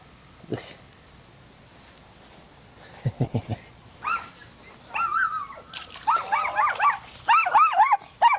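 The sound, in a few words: next door's dog barking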